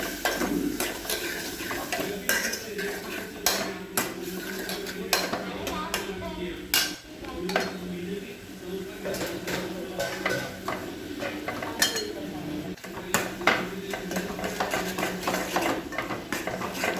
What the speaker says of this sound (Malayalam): ഉപ്പിട്ടതിന് ശേഷം നന്നായിട്ടൊന്ന് ഇളക്കി കൊടുക്കണം